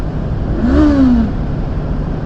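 Motorcycle engine revving under a bridge, one short rise and fall in pitch over steady road and wind noise, fairly close and loud.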